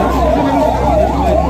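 An ambulance siren wails in a steady repeating up-and-down pattern, loud and close, over low traffic rumble during a rescue scene in a town street.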